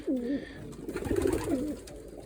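Pigeons cooing close by, soft throaty warbling calls repeated a few times in a gentle rolling rhythm.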